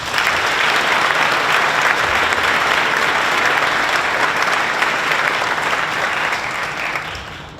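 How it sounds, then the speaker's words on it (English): Sustained applause from a large audience honoring former and future Governor's Fellows, dense steady clapping that holds loud and even for several seconds before tapering slightly at the end. "How about one final round of applause for all of our former and future Governor's Fellows."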